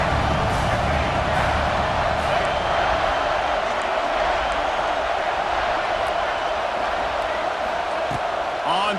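Stadium crowd noise at a Wisconsin vs Tennessee football game, a dense steady roar of cheering fans filling the whole stretch without letup.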